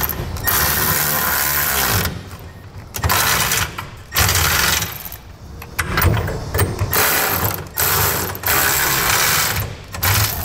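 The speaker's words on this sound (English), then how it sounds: "we'll start tightening the 8 bolts that hold our cross rails to our center section." A ratchet tightening the bolts that hold the cross rails of a B and W fifth wheel hitch on a 2007 Toyota Tundra, heard as loud close ratcheting bursts separated by short pauses.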